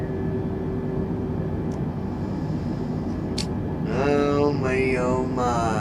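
Steady jet engine drone of an Airbus A320 in Microsoft Flight Simulator, a constant broadband roar throughout, with a brief click and sweeping tonal warbles entering near the end.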